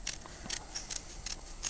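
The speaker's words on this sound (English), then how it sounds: "With a pair of scissors, going slightly inside the circle," Scissors snip around a small paper photo circle being cut out for snap-together buttons, with sharp, close cutting bursts repeating roughly every half second and no speech.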